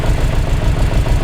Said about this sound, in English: It's idling about 850 there, you can see.